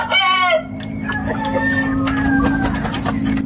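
Game fowl chickens on a Filipino poultry farm, with a rooster crowing in long wavering calls over steady clucking and a constant low hum, the birds loud and close.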